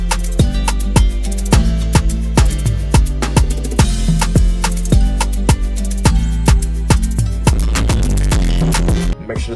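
Afrobeat instrumental built in FL Studio with guitar, playing loud and steady with a punchy kick-and-percussion groove under a bright, looping melodic line, ending abruptly.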